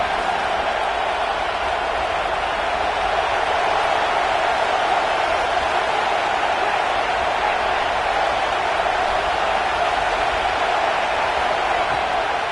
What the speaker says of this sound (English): Here comes his home crowd as the defense tries to get off the field on 3rd down.